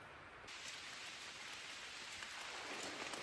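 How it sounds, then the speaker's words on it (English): Rain falling on a campsite along the Long Trail, a soft steady patter of drops on surfaces that thickens into a denser hiss after the first half second and keeps going without speech. "just in time for it to start raining"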